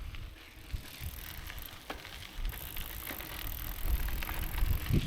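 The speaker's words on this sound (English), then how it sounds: "I've got a nice tick now if you listen" A worn freehub body on a mountain bike's rear wheel ticks faintly during a ride, with sparse light clicks under steady rolling and wind noise.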